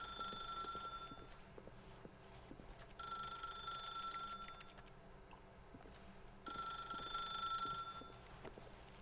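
A telephone rings repeatedly in The Stanley Parable, three loud bursts of bright electronic ringing separated by short pauses over a low room hum.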